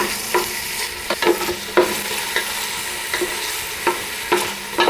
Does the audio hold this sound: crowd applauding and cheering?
no